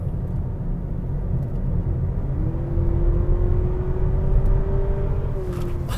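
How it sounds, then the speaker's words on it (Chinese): A 2023 Honda Civic 2.0L RS e:HEV i-MMD hybrid hums with a low, steady engine rumble while driving at Sepang, a whining tone gradually rising in pitch as it accelerates, with no talk. "我觉得引擎声浪虽然是偏大声啊"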